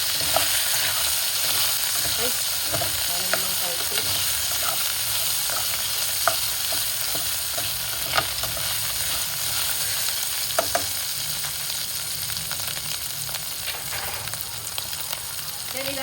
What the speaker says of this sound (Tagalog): Ayan na guys, sinasangkot siya ko na itong pork natin.